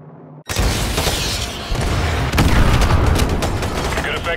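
AGM missile strikes exploding in Modern Warfare 2 Remastered, a sudden loud boom followed by continuous rumbling blasts and crackling debris, close and heavy throughout.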